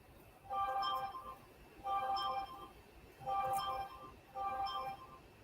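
A mobile phone rings with a repeating chimed ringtone, four bright melodic bursts evenly spaced over a faint room background, no talk.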